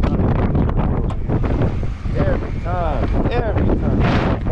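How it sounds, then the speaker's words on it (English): Heavy wind buffets an outdoor microphone throughout, a loud continuous rumble with gusts, while someone talks over it beside a 2004 Chevy Impala SS supercharged. "Sorry about all the wind noise, man."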